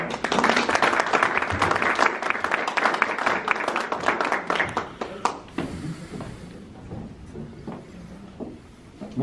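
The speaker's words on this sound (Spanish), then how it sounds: "Recibámonos con un fuerte aplauso, por favor." Audience applause at a Matamoros town council ceremony, a dense burst of many hands clapping that tapers into scattered claps over about nine seconds.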